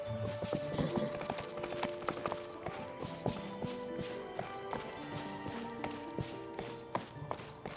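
Horse hooves clip-clop at a steady walking rhythm in the Disney Dreamlight Valley video game, quiet and even, with light chiming game music underneath.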